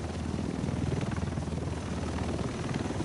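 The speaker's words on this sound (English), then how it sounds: "The rest of us should be in this chopper." A helicopter arrives in the video game Tom Clancy's The Division, set in Manhattan, its steady rotor thump and engine roar loud and continuous throughout.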